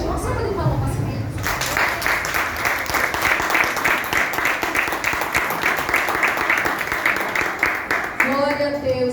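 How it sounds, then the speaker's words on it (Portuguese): A church congregation at a Children's Day service applauds the children, a burst of lively rhythmic clapping starting after a short spoken lead-in and ending as speech resumes. "uma salva de palmas para as crianças"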